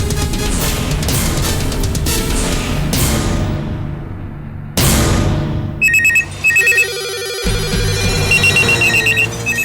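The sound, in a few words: telephone ringing, call not answered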